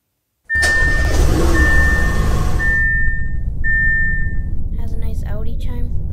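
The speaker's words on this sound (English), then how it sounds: "let's do a startup." A 2022 Audi Q5 starts up in the Roblox game Greenville: after silence the engine catches abruptly and settles into a steady low idle, with a sustained electronic chime tone running over it. A voice speaks briefly near the end.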